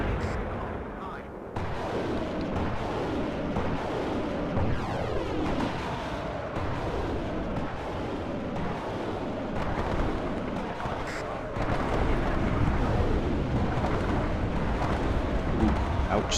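Artillery shells land in the WARNO war video game, a dense run of deep, thudding blasts and rumbling impacts that crowd together over a constant battlefield din.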